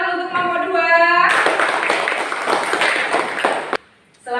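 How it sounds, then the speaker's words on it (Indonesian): A group of students in a classroom clapping for a student group after a recitation, a loud few seconds of dense applause that follows a tonal sound and ends abruptly, with brief noise after. "tepuk tangan untuk kelompok 2"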